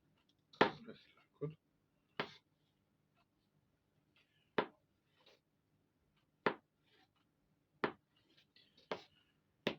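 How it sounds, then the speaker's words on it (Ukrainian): A knife dicing boiled eggs into small cubes for a Korean carrot and mushroom salad, with quiet, separate chopping taps on a board, irregularly spaced, in a quiet kitchen. "Тепер беремо наші яєчки і кришимо кубиками."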